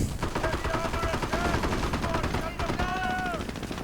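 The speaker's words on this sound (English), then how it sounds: "A Pioneer squad thus killed by that 50 caliber machine gun" A .50 caliber machine gun fires in a video game, rattling off dense, rapid bursts almost without pause over a busy, loud battle soundscape.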